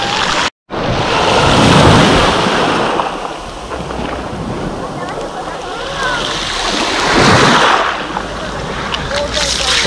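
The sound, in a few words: sea waves surf on the beach at Lazarevskoye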